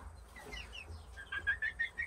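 Bantam Cochin chickens, a hen and rooster of the blue variety, clucking and chirping softly at a short distance, the calls growing busier and more rhythmic toward the end.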